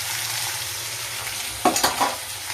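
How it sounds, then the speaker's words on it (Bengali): Spices frying with onion and tomato in a small kadai, a steady loud sizzle with a burst of stirring scrapes and crackles near the end, no voices. "আগে মশলা কষিয়ে নিই, তারপর চিকেন দিই।"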